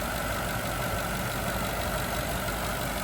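Car engine idling steadily with the AC on during a refrigerant recharge, a continuous dense rumble and hum at constant level with no variation and no voices.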